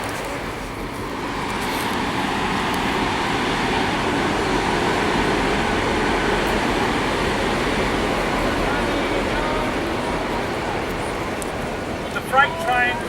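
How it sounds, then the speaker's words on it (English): A freight train rolls past at a moderate distance, a broad sustained rumble and wheel roar that swells and holds for several seconds, with a few sharp clanks near the end. "Got the freight train."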